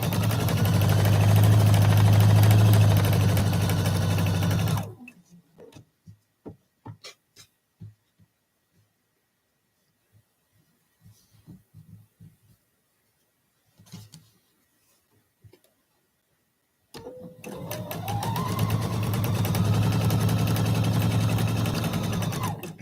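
A sewing machine stitches a quilt block in two steady runs, one at the start and one at the end, separated by a long pause filled with faint clicks and handling noises.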